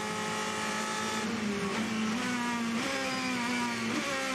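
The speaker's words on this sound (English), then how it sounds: "It does sound brutal going down on the brakes through the gears for the Ferrari." A Ferrari race car at the 24 Hours of Le Mans brakes hard and drops down through the gears, a loud continuous engine roar stepping in pitch with each downshift over several seconds.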